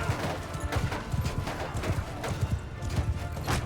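Galloping horses in the game Mount & Blade II Bannerlord: rapid, dense clip-clop hoofbeats pounding close and loud over a busy battle din, with no talking.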